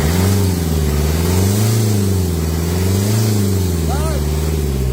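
A car engine under repair revs steadily with a smooth, rising and falling drone, loud and close, while a mechanic works on it.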